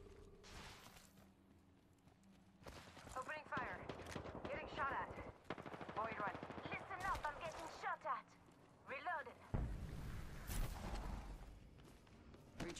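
Gunfire from the video game Apex Legends crackles in repeated sharp bursts at mid distance, mixed with in-game voice callouts and a loud heavy volley near the end.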